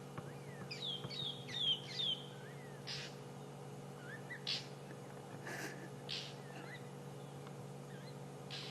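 A wild bird in the African bush mimics a magpie shrike's call, giving a short run of four clear, repeated whistled notes near the start, followed by scattered fainter chirps over a steady low hum.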